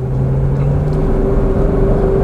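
A 1976 Mercedes 450 SEL 6.9 V8 engine accelerating, a loud, steady low rumble with a rising tonal drone, heard from inside the car without talk.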